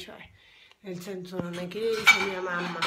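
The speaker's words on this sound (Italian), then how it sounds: "Ora scusate per il casino, ma sto prendendo i piatti." Plates and cutlery clatter and clink as dishes are picked up in a home, with someone speaking Italian over the close, busy rattling.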